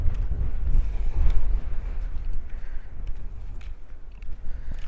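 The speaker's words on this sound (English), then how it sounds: "I don't know if this microphone is going to be able to handle the wind." Strong gusts of wind buffet a microphone outdoors, producing a steady low rumble with louder surges and flutter throughout, with no voices.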